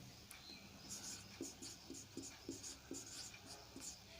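Chalk or marker writing on a board during a lesson on early digital computers, a series of short rhythmic scratchy strokes close by, steady and moderately loud with no talking over it.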